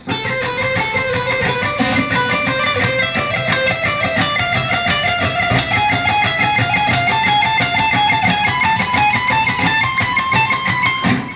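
Rapid, steady stream of guitar notes cycling through a neoclassical-style scale sequence, unbroken and evenly loud for the whole stretch.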